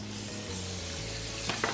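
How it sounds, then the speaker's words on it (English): Close, steady sizzle of about half a stick of butter frying in a hot pan after searing blackened tomahawk pork chops, with a couple of soft clicks near the end. "into that same frying pan we go with some more butter"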